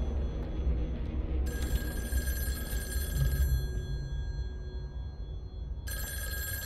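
A telephone rings in the horror game In Sound Mind, a loud electronic trill that sounds for about two seconds, stops, then starts again near the end over a low ambient drone.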